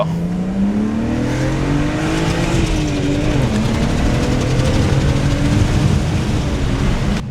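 An old, previously abandoned BMW's engine drones loudly and steadily, its pitch climbing as it accelerates, then briefly dipping and rising again as the car keeps driving; a check engine light comes on.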